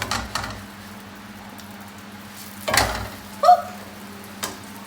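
Eggs frying in a pan make a soft sizzle under a steady low hum, with a scrape and clatter near the end as a makeshift spatula flips them, followed by a brief clink.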